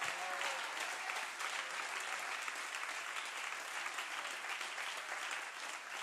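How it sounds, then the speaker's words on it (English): Church congregation clapping hands together in sustained, dense applause that fills the room evenly for several seconds, loud and continuous without any speech over it. "Clap your hands once again,"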